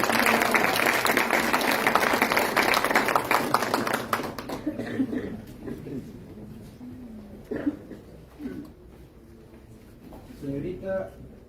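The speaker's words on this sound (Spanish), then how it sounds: "Un aplauso para ella, por favor." Audience applause for a participant at a university oratory contest held at a court of justice, loud and dense for about four seconds, then dying away as a voice starts speaking over the quiet room.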